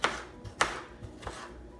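Knife chopping tomato for saltfish fritters, four distinct cuts spaced about a third of a second apart, close and fairly quiet.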